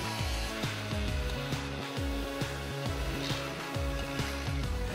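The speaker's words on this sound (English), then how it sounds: "This final challenging application sees the Terrasaur tearing through a reinforced heavy-duty" A Terrasaur carbide-cluster diamond blade tears through a reinforced heavy-duty rubber track, giving a loud, continuous grinding whine with steady pulsing surges throughout.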